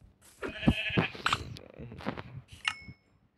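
A sheep bleats in the video game Minecraft, with a few short, wavering calls in quick succession against a quiet background.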